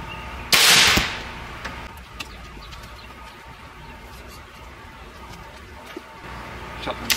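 A single loud, sharp blast from an Umarex Air Saber air rifle fired at a target, close and explosive, followed by quiet ambience with faint birdsong and scattered small clicks.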